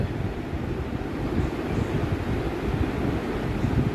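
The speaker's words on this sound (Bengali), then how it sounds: "মাঝে মাঝে বাতাস বইছে" Steady wind buffets the microphone outdoors at a large open Eid prayer ground, a continuous low rumble with gusty fluctuations throughout and no voices.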